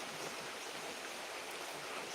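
Steady rain in Kerala pours down in a dense, even hiss with no breaks, close and fairly quiet, and no voices over it.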